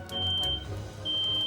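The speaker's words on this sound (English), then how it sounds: "No, the sound you're hearing is a smoke detector" A smoke detector emits a high, steady electronic beep twice, each tone holding for about half a second, heard indoors beneath a low room murmur.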